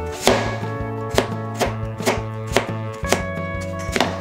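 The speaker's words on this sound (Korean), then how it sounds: "그래서 초록 부분을 먼저 썰어줍니다" A knife chops the green tops of a radish on a cutting board in a steady run of about ten firm, close thuds, with music playing underneath.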